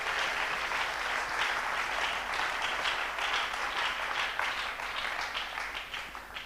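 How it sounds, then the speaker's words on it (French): A church congregation at a worship service applauds steadily, the sustained clapping filling the room at moderate distance and slowly tapering off toward the end. "Est-ce qu'on peut acclamer pour la gloire de Dieu?"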